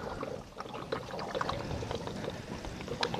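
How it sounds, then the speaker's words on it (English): Water gushes from the drain of an RV water heater during winterizing, a steady close splashing and gurgling stream that runs unbroken throughout without speech. "And water is going to come out, so you want to kind of stand back."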